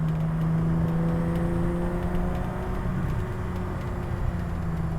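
A Ferrari engine and exhaust give a steady, moderately loud drone with a smooth, even hum and no sharp revs.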